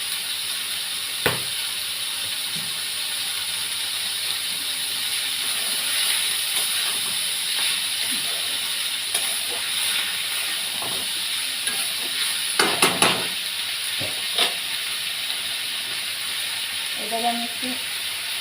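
Greens fry with onion in a pan for a dish of sautéed greens with eggplant, giving a steady, even sizzling hiss throughout, with a couple of brief utensil clatters near the end.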